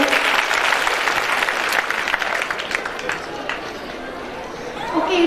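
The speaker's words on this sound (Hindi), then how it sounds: "तो इसके लिए जोरदार तालियां।" Loud, sustained applause from an audience at a school annual function, honoring a 1000-rupee prize winner. Dense clapping fills the whole stretch, with a light murmur of chatter underneath.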